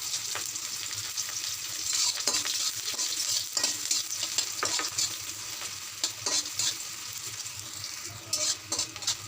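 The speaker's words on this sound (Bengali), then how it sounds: "জিরাটা যখন হালকা ভাজা হয়ে গেছে এখন কেটে রাখা পেঁয়াজগুলি দিয়ে দিলাম" Chopped onions sizzle in hot mustard oil with lightly fried cumin, a steady close crackle broken by occasional scraping stirs of a spoon against the pan, with no voices.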